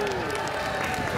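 Live audience at a ceili house session at the All-Ireland Fleadh Cheoil in Ennis applauding to welcome a 13-year-old fiddler, a dense burst of clapping and cheering with a voice over the crowd.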